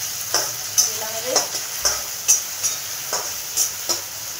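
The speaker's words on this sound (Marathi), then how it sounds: "टमाटर आणि मिरची टाकली" Tomatoes and chili frying in hot oil, a soft steady sizzle broken by light repeated stirring scrapes and taps, close and moderately quiet with no talking.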